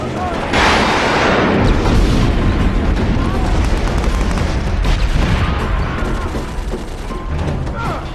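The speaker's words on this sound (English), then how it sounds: "Enemy airstrike inbound." Airstrike explosions in the video game Socom 4: heavy, continuous rumbling booms and blasts fill the whole stretch, loud and dense, with a fuller burst near the start and sustained crashing throughout.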